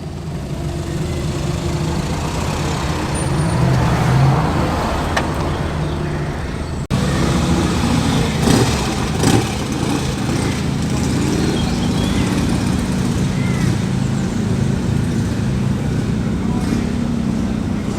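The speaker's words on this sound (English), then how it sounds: "Coming thick and fast now. TVR Chimera, Porsche, and behind that a great little Mini Clubman." Classic cars at an outdoor classic car show, including a TVR Chimera, a Porsche and a Mini Clubman, pass one after another with steady engine and road noise throughout and a louder stretch partway through.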